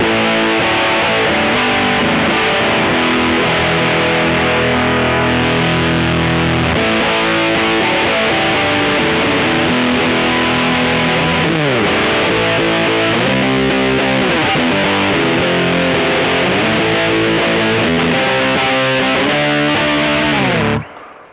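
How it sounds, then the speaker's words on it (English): Heavily distorted electric guitar chugs and sustains chords continuously, loud and thick, with gritty Rat-style overdrive from an OPFXS V UNO multi-effect stompbox, stopping abruptly at the end. "Really good usable distortion sound. That's a rat."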